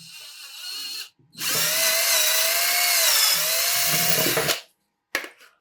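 A power drill bores screw holes while building a homemade styrofoam cutting machine, one steady whining run of about three seconds between short bursts, close and loud with no talk.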